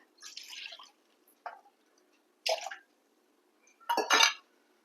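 Water poured from a cup into a kitchen pot in short bursts, four separate splashing pours with quiet gaps between them, close and alone.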